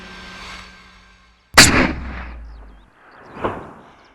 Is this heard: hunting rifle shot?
yes